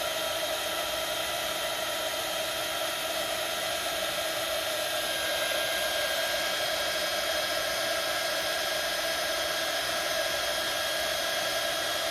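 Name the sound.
heat gun used for embossing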